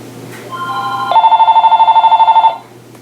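A telephone bell rings in a steady burst of rapid, evenly pulsed trills, loud and close, then stops abruptly, with a faint room hum beneath and no talk.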